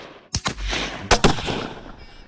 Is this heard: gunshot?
yes